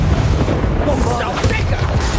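A Bombarda blasting spell detonates in the Hogwarts Legacy video game, a dense low booming rumble that stays loud and sustained through the whole moment.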